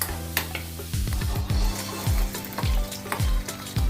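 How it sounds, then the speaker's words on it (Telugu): Garlic followed by tempering spices frying in hot oil for ulava kattu, a busy close sizzle broken by repeated quick spoon strokes against the pan at an uneven pace. "ఇందులో ఫస్ట్ నేను వెల్లుల్లి వేపుకుంటాను."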